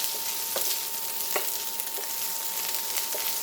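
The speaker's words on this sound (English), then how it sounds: "Ooh, it's bubbling really good, so I'm going to turn it down to just under medium" Beef Burgundy simmering in a pot just under medium heat, a dense, steady close bubbling and sizzling with a few soft pops and a faint constant tone underneath.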